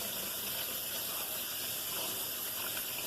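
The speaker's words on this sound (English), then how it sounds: "I was just gonna rinse them off because they have been in the pack." Water runs from a tap as pinto beans are rinsed, a steady, even rushing hiss that holds without pause throughout.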